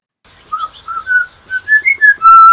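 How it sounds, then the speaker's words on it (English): A tui whistles a series of clear, tonal notes close by, rising and falling in short phrases, ending on a long sustained whistle. "So tuis have two vocal boxes, sets of vocal cords, and they can make sounds similar to humans"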